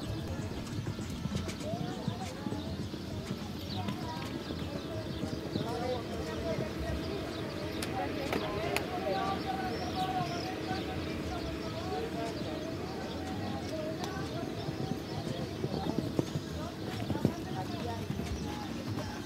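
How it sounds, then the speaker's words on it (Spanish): Horse hooves thud in a steady clip-clop rhythm across a show jumping arena at an Andalusian championship in Jerez de la Frontera, faint and distant, with a public-address voice, crowd murmur and birds in the background. "En pista, caballo Bruja, montado por Rocío Maldonado La Asunción."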